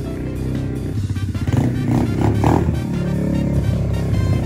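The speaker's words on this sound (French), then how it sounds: "T'as allumé la moto." A motorcycle engine starts and runs at home, a steady, loud, close rumble that swells slightly midway and keeps going without a break.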